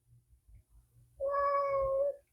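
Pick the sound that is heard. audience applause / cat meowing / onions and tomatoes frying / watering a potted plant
cat meowing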